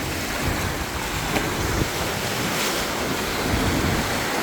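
Ocean waves wash and rush continuously at Boracay, with wind gusting across the microphone; no voices are heard.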